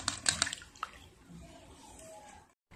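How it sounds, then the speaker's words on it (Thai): Cooked Thai tapioca dessert pieces scooped from the pot into cold water, giving a few close, brief splashes and drips followed by a soft wet trickle, then quiet. "เสร็จแล้วเราก็นำมาพักในน้ำเย็นเลยนะคะ"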